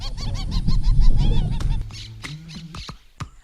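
Wild birds calling in a lush natural setting, a dense chorus of honking, goose-like calls overlapping loudly at first, then thinning out to a few scattered sharp calls and clicks.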